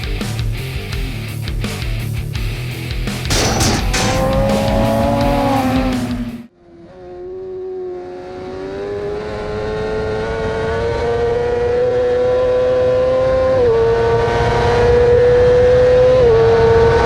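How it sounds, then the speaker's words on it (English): A Suzuki GSXR 1000R sport bike screams down a race track straight, high engine note climbing through the gears, a brief gap at a shift, then a loud sustained wail rising in pitch, close and unbroken by talk. "That is the almighty Suzuki GSXR 1000R."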